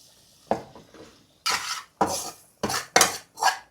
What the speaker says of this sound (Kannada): ಫಸ್ಟು ಮೈದಾನ ಬಟರ್ನ ಚೆನ್ನಾಗಿ ಹಿಂಗೆ ಮಿಕ್ಸ್ ಮಾಡಿ